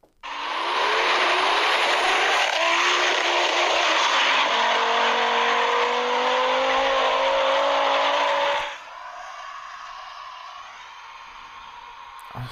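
A 640-horsepower Volvo race car revs hard and spins its tires, a loud, sustained roar with rising engine pitch for several seconds before cutting to a quieter idle-like hum.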